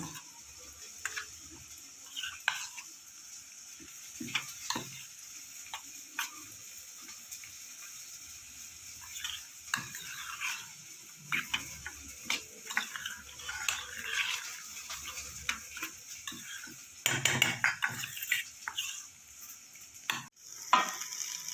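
Onions frying in a pan for a soyabean curry, a soft constant sizzle broken by scattered scrapes and clinks as a utensil stirs them, quiet and close, with a louder stirring flurry near the end.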